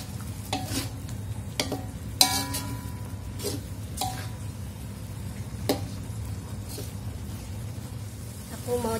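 Tuna chunks being stirred in a frying pan with galangal, giving faint scraping and clinking of the spatula over a low sizzle, with a few sharper taps against the pan.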